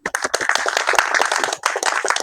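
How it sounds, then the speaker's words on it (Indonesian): A short burst of applause from a small group, quick hand claps overlapping for a couple of seconds. "Tepuk tangan."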